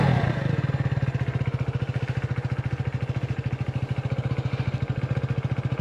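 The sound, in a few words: motorcycle ignition being started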